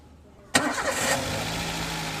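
A Toyota Avanza engine cranks and catches abruptly, roaring briefly before settling into a steady, smooth idle close by.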